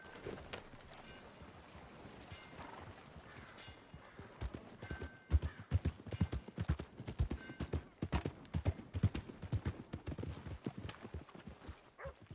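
Horse hooves clip-clopping in the video game Red Dead Redemption 2, starting quiet then becoming a steady run of close, distinct hoofbeats, with a brief whinny and faint voices near the start.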